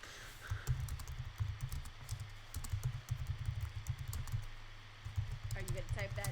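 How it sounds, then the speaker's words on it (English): Steady clicking of keys on a computer keyboard, a rapid uneven patter of taps running throughout at close range, with a low hum beneath and talk near the end. "Are you gonna type that in the chat? Or are you typing it to me?"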